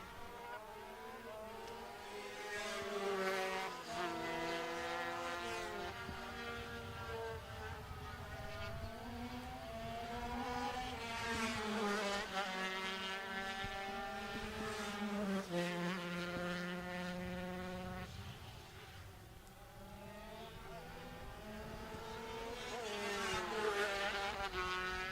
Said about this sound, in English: Jones just bombing it down the start-finish straight, utilising all horsepower in his engine, his 250cc engine